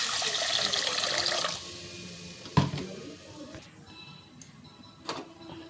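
Water is poured into a simmering fish curry gravy, a short splashing gush that fades after a couple of seconds, followed by quieter clinks and light taps nearby.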